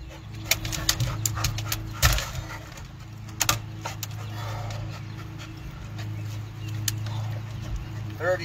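A dog pants nearby in quick bursts and faint whimpers over a steady low hum, with scattered sharp clicks and a few soft bird calls in the background.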